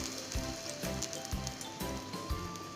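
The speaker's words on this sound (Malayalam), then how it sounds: "കുറേശ്ശെ നമുക്ക് ഇട്ടിട്ട് അത് ഫ്രൈ ചെയ്തെടുക്കാം." Spoonfuls of banana snack batter frying in hot oil, a dense continuous sizzle with soft bubbling pops up close.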